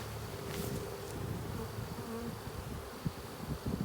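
Dense, steady buzzing of a honeybee swarm at an airport, bees crawling over each other as they are coaxed into a hive, a close continuous hum with a few louder low thumps near the end.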